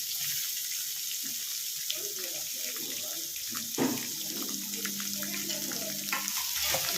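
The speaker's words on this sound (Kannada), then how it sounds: "ಎಲ್ಲ ಹಾಕಿ ಫ್ರೈ ಮಾಡ್ಕೊಳ್ಳೋಣ" Onions, green chillies, curry leaves and capsicum fry in a pan for avalakki bath, giving a soft continuous sizzle with occasional clinks and scrapes of stirring close by.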